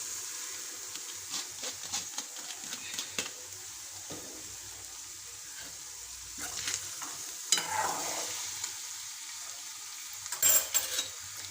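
Boiled rice with peas and carrots tossed into a hot pan with capsicum and onion for restaurant-style Schezwan fried rice, giving a steady soft sizzle broken by repeated scraping stirs and a few sharp utensil clinks near the end, with no talking.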